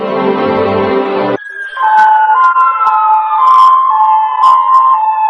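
A loud Polish police car siren wails continuously, its pitch sliding and holding close by, following a brief burst of music at the start.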